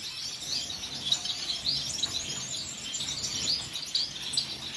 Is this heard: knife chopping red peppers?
no